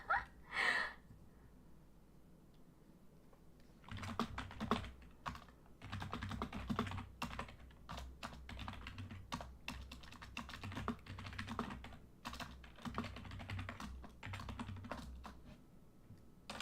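Close, rapid typing on a computer keyboard, bursts of clattering keystrokes with brief pauses between them, heard alone and fairly quiet, after a short sound at the start.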